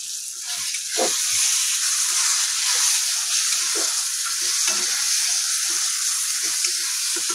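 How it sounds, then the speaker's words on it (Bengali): Tomatoes sizzle and fry in a pan for a spicy tomato chutney, a loud continuous crackling hiss broken by repeated scraping stirs of a spoon. "টমেটোটা জাস্ট ভাজা হয়ে গিয়েছে"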